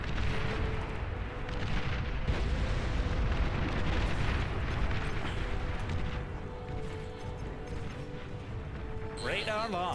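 Plasma cannon shells landing during a massive Beyond All Reason RTS battle, a dense, continuous roar of heavy distant explosions and rumbling booms, with someone talking over it.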